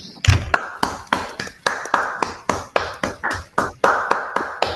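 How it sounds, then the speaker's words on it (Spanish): Applause from a small group at an academic presentation, with scattered individual claps in an uneven rhythm, fairly close and lasting several seconds. "agradecer con un fuerte aplauso a Laura por su presentación."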